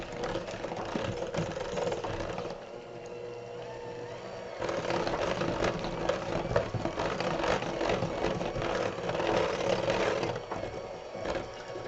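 An electric mixer beats chocolate chip cookie dough with vanilla, running steadily with a whirring motor hum that shifts in intensity through the clip, close and fairly loud with no talk.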